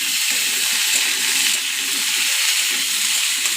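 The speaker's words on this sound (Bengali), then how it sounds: "এখন আলুটা ভালো করে বেশ কষিয়ে নিতে হবে" Potatoes frying and being stirred in a hot pan, a loud, steady, close hiss of sizzling oil that continues without a break.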